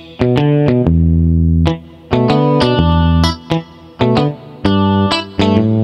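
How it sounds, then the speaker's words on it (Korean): Synthesizer patch bank C 44 gives a dynamic, overdriven electric guitar sound: loud, punchy chord attacks in uneven bursts with ringing sustain between hits, and no talking. "이번에는 다이나믹한 일렉 기타 소리를 들려드리겠습니다."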